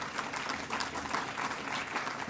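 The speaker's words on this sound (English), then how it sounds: "So let's give them a big round of applause." A short burst of audience applause fills an event on the future of transit in Surrey and the South Fraser region, a steady wash of many hands clapping at moderate distance with no talking over it.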